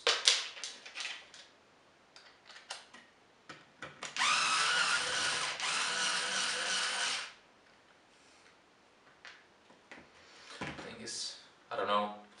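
A screw is backed out of a Bang & Olufsen Beolab 3 loudspeaker with a power driver: a close, buzzing three-second whir sits between scattered clicks and handling noises, with a person talking around it.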